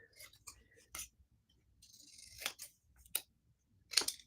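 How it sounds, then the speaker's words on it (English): Scissors snip through scraps of Christmas card paper while someone cuts out a Merry Christmas greeting: several short, crisp, close cuts with brief pauses between them, followed by a quick cluster of louder snips near the end. "I'm going to cut out my Merry Christmas"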